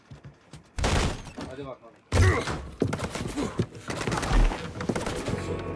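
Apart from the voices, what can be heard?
gunfire in video game Mafia 3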